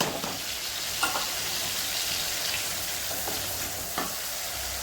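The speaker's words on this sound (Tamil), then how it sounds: "இப்போ இவங்க நல்லா கொதிக்கிறாங்க" A tamarind rice spice mixture sizzles and bubbles steadily in a pan, with a few soft clinks of a spoon stirring at intervals.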